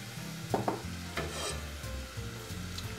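Pork browns in a hot pan with extra virgin olive oil, a close steady sizzle with a few scraping stirs of a utensil, no talking.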